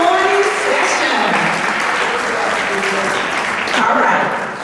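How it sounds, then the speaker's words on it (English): An indoor audience at a senior lobby day event at the Colorado Capitol applauds after a morning session. The loud, sustained clapping fades slightly near the end, and a voice speaks over it. "give yourselves a round of applause"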